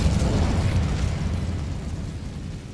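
Incendio fire spell bursting in Hogwarts Legacy: a thick, rumbling eruption of flame with a deep roaring body, loud and close, fading gradually over a few seconds.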